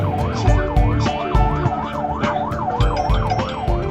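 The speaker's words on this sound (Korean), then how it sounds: "지금 구급차 아닌 거죠?" A wailing ambulance siren rising and falling in steady repeated cycles, loud and close, with a vehicle engine rumbling beneath it.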